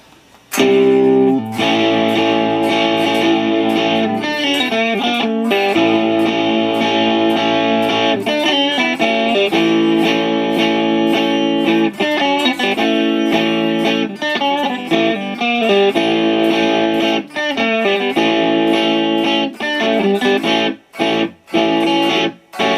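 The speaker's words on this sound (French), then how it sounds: "Je vais rajouter un petit peu de reverb aussi en même temps." A sustained electric guitar tone through an Amplitube 5 simulation of a Mesa Boogie Mark IIc+ amplifier with added reverb, a washy tail, chords ringing out continuously and loudly with brief gaps near the end.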